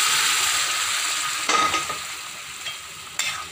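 Boiled chickpeas are poured into sizzling masala in a pan while cooking kadala masala curry. There is a loud hiss of frying, stirring and a few sharp clinks of a utensil against the pan, and the sizzle fades gradually.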